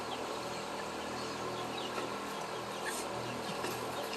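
Bantam chickens kept in cages cluck softly and intermittently while being fed, faint and somewhat distant over a constant hiss of background noise.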